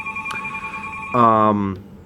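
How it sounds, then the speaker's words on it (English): A telephone rings indoors with a single electronic ring burst, a bright tonal trill lasting about half a second over a soft room background. "the phone has to ring when the video is all being summed up"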